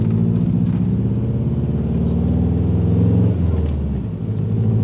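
A Subaru STI drag build with slightly flat tires accelerating onto the highway, a loud, steady low engine drone and road rumble heard from inside the car, the pitch shifting near the end.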